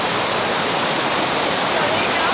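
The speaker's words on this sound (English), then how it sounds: "So look at the amount of water coming down right now." Heavy rainwater pours down like a waterfall near a cable car station in Langkawi, Malaysia, a loud, steady, close roar of rushing water with no break.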